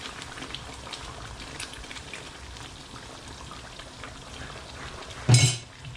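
Potatoes drop into a simmering pot of duck kaldereta with one brief, loud thud and splash near the end, following a long stretch of steady bubbling.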